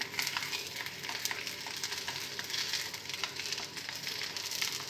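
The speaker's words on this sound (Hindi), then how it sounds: "इसमें अपना फ्रोज़न पराठा डाल देंगे।" Frozen paratha frying in a little hot oil in a pan over a low flame, a steady close sizzle with fine crackling spits that runs without pause and with no talk.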